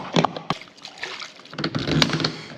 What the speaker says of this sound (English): I'm gonna pour some fuel, fill it up as much as I can